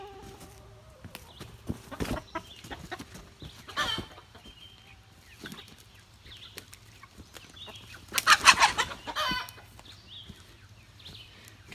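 Rooster attacking hens in a flock, with scattered clucks and a sudden loud burst of squawking and flapping partway through, then quieter clucking and rustling.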